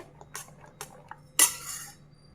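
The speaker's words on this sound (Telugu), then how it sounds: "బాగా ఉండలు లేకుండా కలుపుకోవాలా" A spoon stirs ragi flour dosa batter in a bowl, giving a few quick clinking scrapes against the sides, then one louder burst of mixing up close, with no voices.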